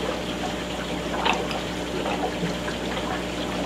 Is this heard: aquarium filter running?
yes